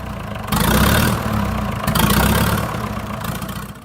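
An E1A New Major tractor engine starts up and runs with a deep, solid knocking beat, loud and close, its rumble swelling and easing slightly as it settles; no voices.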